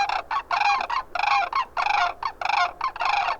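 Recorded calls of a migrating sandhill crane flock played back, a run of loud rattling, bugling bursts in quick irregular rhythm, many overlapping voices with no talk over them.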